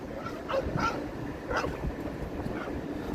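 Several short dog barks and yips, muffled as if from inside a vehicle, scattered over a steady low road rumble.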